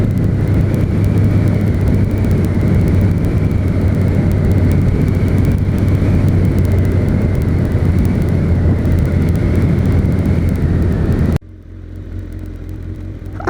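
A 2006 Suzuki GSX-R 1000 K6 sportbike roars under hard acceleration for about eleven seconds, a loud, sustained engine note with steady wind rush. It cuts abruptly to a quieter idle-like hum at the end.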